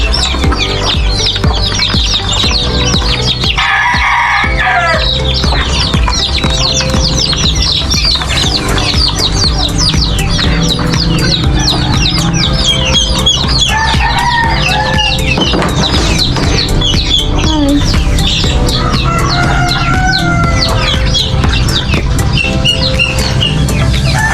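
Backyard chickens cluck steadily and close by, with several hens overlapping, a rooster's calls rising now and then, and small bird chirps scattered through a continuous, busy farmyard bed.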